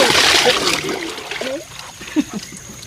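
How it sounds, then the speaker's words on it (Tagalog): Water is scooped and splashed for bathing at a remote mountain home: a loud, sloshing splash and pour at first, fading into lighter trickles and drips while voices talk nearby. "sinasalukan ko pa ng tubig"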